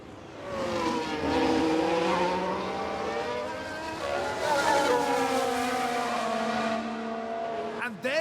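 An Aston Martin Formula 1 car from a 1991-season mod of F1 Manager 2022 drives past with a loud, high-revving engine whine that rises, falls and shifts through the gears, with other cars close by.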